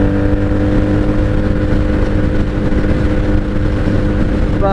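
A 1997 Honda Magna VF750C motorcycle cruising on a highway, its engine droning steadily and loud throughout with heavy wind rush, carburetors running on bad fuel.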